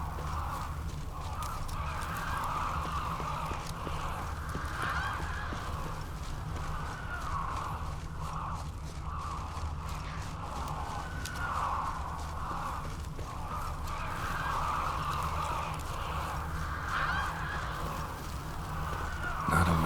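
Ravens cawing in the video game The Witcher 3, a continuous hoarse chorus of calls layered over a low ambient hum, moderately quiet and without speech.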